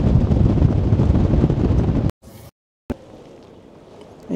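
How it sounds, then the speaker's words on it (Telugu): Strong wind blasts across an Alpine snow peak with a loud, rough roar that cuts out abruptly midway, leaving only a quieter, fainter gusting hiss afterward. "బయట విండ్ చాలా పెరిగిపోయింది"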